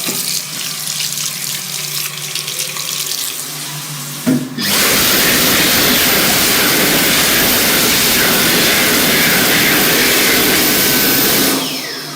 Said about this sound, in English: These have some Dyson Airblade DBs built in 2018.